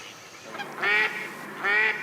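Wild geese honk twice in clear, close bursts near decoys set out on a hunting pond, with a quiet pause between the calls and no talking.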